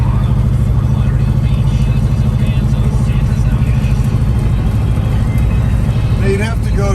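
Inside a 1966 Chevrolet Chevelle muscle car pulling hard, a loud, steady low engine rumble fills the cabin while people talk over it.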